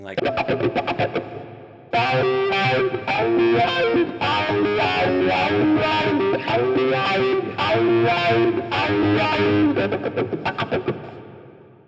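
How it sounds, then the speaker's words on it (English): Electric guitar with heavy effects and distortion plays rhythmic percussive strumming, steady choppy chords throughout, with brief muted scratches at start and end and a voice speaking a word. "And then some percussive strumming"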